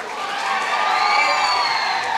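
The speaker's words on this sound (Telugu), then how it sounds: "అందరూ కూడా క్లాప్స్ కొడదాం." A crowd of students at a college freshers' day celebration cheers and shouts together in a loud, sustained burst. The clapping is blended into the roar rather than standing out as separate claps.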